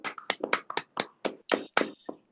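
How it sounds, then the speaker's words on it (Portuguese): A small group or single listener clapping in a podcast studio, about a dozen distinct, close handclaps in a quick, slightly irregular rhythm. "Uma salva de palmas para Marina Cristal."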